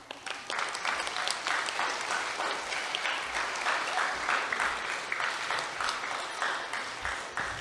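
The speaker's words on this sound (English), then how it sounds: "Crowd cheers." A crowd claps steadily and continuously with scattered cheering, a dense, even patter of many hands filling the space at moderate distance with no clear talk.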